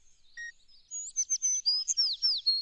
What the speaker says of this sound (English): I think it comes from a sparrow.